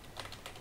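Typing a web link on a computer keyboard, a brief run of soft, close key taps with no speech.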